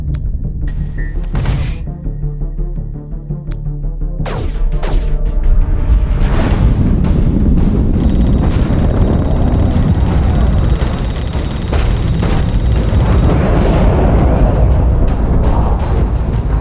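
Heavy explosions from torpedo strikes in The Expanse Telltale space combat game, a few sharp booms early then a sustained loud rumbling roar with whooshing swells.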